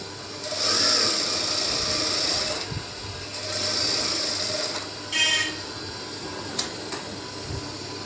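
Sewing machine stitching a garment sleeve in bursts, a whirring mechanical hum that runs, pauses and restarts several times at close range with no talk.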